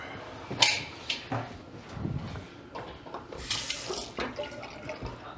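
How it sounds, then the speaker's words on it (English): Shower water runs close by in a bathroom, an uneven splashing spray that swells and dips with several sharp splashes as it hits surfaces. "we're showering up good"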